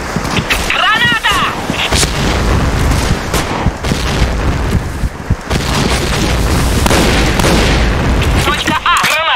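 Repeated grenade explosions and gunfire in a video game firefight, loud dense booms and shots running continuously, with a voice shouting over the battle noise.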